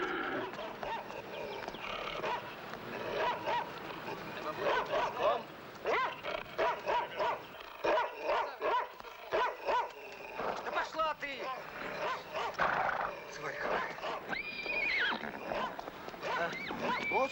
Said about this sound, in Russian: Да, ну, бисова собака.